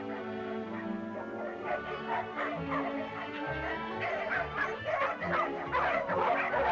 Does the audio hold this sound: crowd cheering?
no